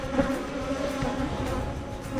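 A disturbed honey bee swarm gives off a loud, dense, steady buzz up close, with a constant droning hum and no gaps or voices.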